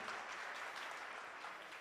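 Steady, continuous applause from an audience as donors' names are announced at a gathering, a uniform wash of many hands clapping, heard at a distance and fairly soft in level.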